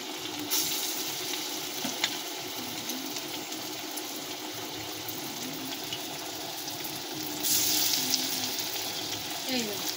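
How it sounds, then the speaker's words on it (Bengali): Small lentil fritters frying in hot oil, a steady close sizzling hiss throughout with a brief surge of louder bubbling near the end. "এবার ছোট ছোট এরকম বড়ার আকারে আমরা ভেজে নেব।"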